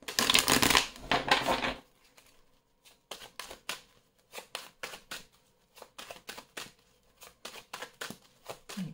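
Oracle cards are shuffled close up, starting with a loud riffling burst that runs for nearly two seconds. A long series of crisp, rhythmic card flicks and slaps follows, heard alone without talk.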